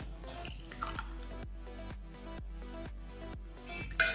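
Drops of food colouring fall into milk for a milk juice, a series of regular, evenly spaced drips that sound close and fairly soft over a faint background.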